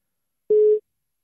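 Phone call ringing tone: a single clean electronic beep, about a third of a second long, alone against silence.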